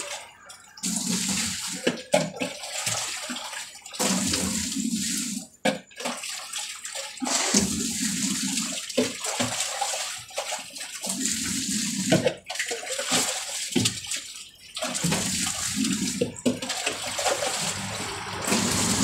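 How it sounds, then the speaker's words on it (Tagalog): Water pours continuously from a tap into a pail, a steady rushing splash that shifts in tone as the level rises, with brief pauses and no talking. "Kumukuha po ako ng paldi. Tsaka, nilalagyan ko po ng tubig"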